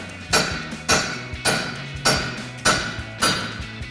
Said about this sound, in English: just hit here, break that free with a hammer